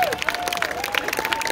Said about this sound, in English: On lui donne une main d'applaudissement!